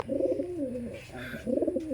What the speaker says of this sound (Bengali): দেখো ওদেরগুলো যে অনেক সুন্দর কবুতর